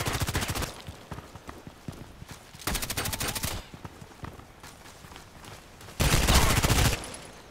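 Gunfire in the online shooter Contract Wars, heard as repeated bursts of automatic fire, close and loud, in three clusters with quieter crackling shots between them and no talking.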